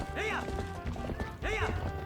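A horse gallops in a Zelda video game, its quick hoofbeats clip-clopping under game music, with a couple of short whinny-like swells and a voice talking over it.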